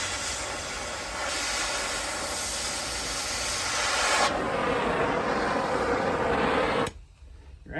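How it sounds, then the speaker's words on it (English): An oxy-fuel cutting torch burns through steel in a shop with a loud, steady roaring hiss that swells midway and then cuts off abruptly near the end, no talking. "You're actually burning the steel with a torch, not just melting it."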